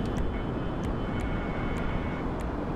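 A large airplane in GTA 5 Online roars past in a dense, loud engine rumble that fills the clip, with faint short clicks over it and no talking.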